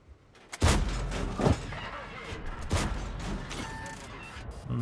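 Artillery shells in a tank video game land as three heavy booms spread over a few seconds, each followed by rumbling debris and mechanical noise, with no talk over them.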